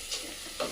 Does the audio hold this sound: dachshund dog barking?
no